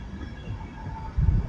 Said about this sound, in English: Intercity 225. Second one we've seen this morning. Wait, is it stopping here?